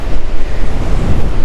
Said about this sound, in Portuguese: porque acho que tem muito vento